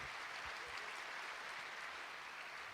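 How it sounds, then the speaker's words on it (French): An audience at a talk applauds, a continuous, even hiss of many hands clapping, heard faint and distant with no voices over it. "Thank you for applauding."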